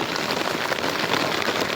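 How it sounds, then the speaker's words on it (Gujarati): Heavy monsoon rain drums steadily on a shed roof, a dense, loud, continuous patter with no voices. "ફૂલ વરસાદ આવ્યો"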